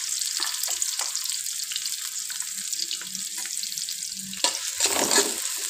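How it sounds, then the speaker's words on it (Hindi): Large sliced onion dropped into a spoonful of hot oil in a pan for a restaurant-style Mughlai chicken handi, giving a steady close sizzle and crackle with occasional stirring scrapes and a brief louder burst near the end. "ये देखो हमने अब गरम किया है 1 चम्मच ऑयल, और हमने ये एक बड़ी साइज़ का प्याज जो है इस तरह से लच्छेदार जो है इसको कटिंग कर ली है"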